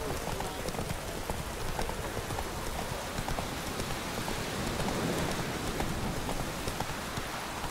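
The horse Roach gallops in The Witcher 3 during a race, rapid hoofbeats drumming steadily over a constant rain-like wash of ambient noise.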